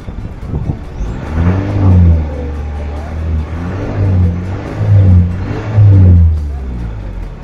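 A car engine being revved while stationary, on a car with a weak-voltage electrical fault, its pitch rising and falling through several surges, loud and close.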